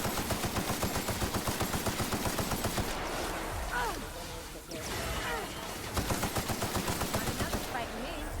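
Rapid automatic gunfire from a gun in the video game The Outer Worlds, a fast regular stream of shots that pauses briefly midway and then resumes, with a voice talking over part of it.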